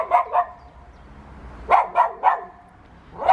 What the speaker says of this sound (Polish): Wszyscy na kota szczekają.